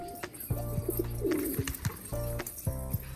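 Pigeons coo close by in low, rolling bursts that repeat several times, with faint rustling between calls and no talking.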